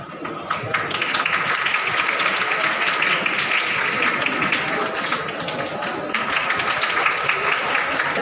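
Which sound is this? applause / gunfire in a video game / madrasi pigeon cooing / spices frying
applause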